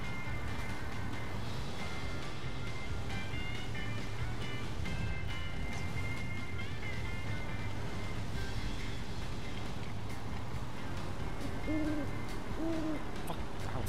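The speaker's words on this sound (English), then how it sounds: "I heard a hoot in my ear hole and I thought it was an actual owl in my room." An owl hooting in the video game Final Fantasy 7 Rebirth, two short low hoots near the end over a dense, continuous game soundscape of rumbling ambience and tonal music.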